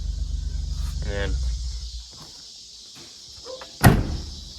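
The cab door of an old International tractor shuts with a single solid thud near the end, preceded by a low idling rumble and faint shuffling.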